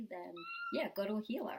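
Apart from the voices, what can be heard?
cat meowing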